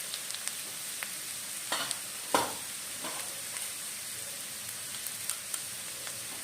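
Dry spices including turmeric being fried in a pan, a quiet steady sizzle with a few sharp spoon scrapes and taps, close and without speech.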